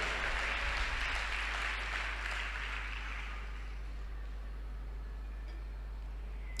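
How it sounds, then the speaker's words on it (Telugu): A church congregation claps together at a sermon. The applause is fairly faint and thins out over the first few seconds, then gives way to quiet room tone. "కొట్ట చప్పట్లు ఒకసారి"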